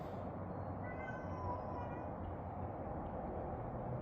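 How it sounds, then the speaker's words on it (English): An orange and white cat meowing outdoors, heard from inside a house: drawn-out, wavering cries that sound somewhat muffled and distant over a steady low background noise. "I can hear that cat meowing outside."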